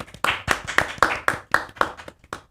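A small group claps for Kak Dika and team at a student podcast, a short burst of about nine sharp, fairly close claps in a steady rhythm, with no talking.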